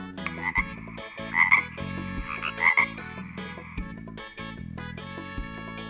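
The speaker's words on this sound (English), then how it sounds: "green frog" A green frog croaks in a few throaty bursts over a steady musical backing, with the calls rising above the tune at intervals.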